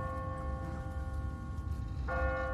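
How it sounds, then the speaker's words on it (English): A church bell rings in The Walking Dead video game, with a sustained tolling tone under a low rumbling background and a second strike near the end, moderately distant. "What kind of church bell goes off at 20 past the hour?"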